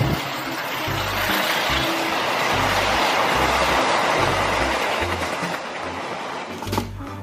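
CC206 railway locomotive pulling cars past at close range, a loud steady rumble with rhythmic clickety-clack of wheels over rail joints throughout, no talk.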